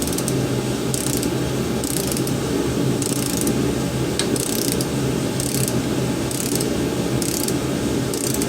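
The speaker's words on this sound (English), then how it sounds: "get your torque wrench with your T40 bit" A torque wrench with a T40 star bit clicks repeatedly as it tightens cam thrust plate bolts during a Jeep 4.0 engine rebuild, a steady run of close, loud ratcheting bursts over a constant workshop hum.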